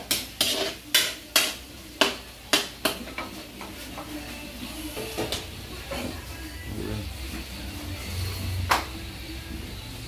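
Vegetables being sautéed in a pot for beef kare-kare: a run of sharp metal utensil clacks against the pot at the start, then softer stirring with a low sizzle, and occasional talking.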